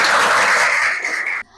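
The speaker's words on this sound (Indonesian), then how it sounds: "Kalau begitu kita beri tepuk tangan dulu untuk kita semua." Children in a Hindu religion classroom clap together at the end of a lesson, a loud, dense burst of applause that holds steady, then cuts off sharply.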